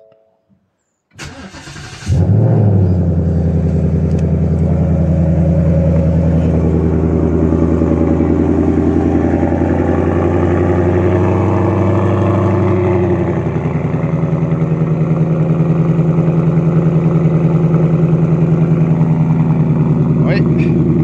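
A Ford Mustang engine cranks over and catches after about two seconds, then settles into a steady, loud, deep idle that rumbles on without a break.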